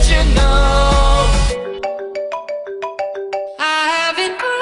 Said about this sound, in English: When you call my phone, I have a ringtone